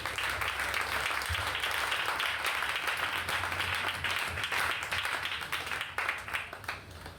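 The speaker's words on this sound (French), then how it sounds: "Acclame Jésus." Church congregation applauding during a French-language worship service, dense continuous clapping that holds steady and thins slightly toward the end.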